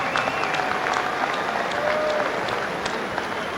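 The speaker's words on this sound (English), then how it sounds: "Let's give him a round of applause with a big send out." A crowd at a boxing event applauds, a dense, steady wash of clapping that fills the hall and holds at an even level from start to finish.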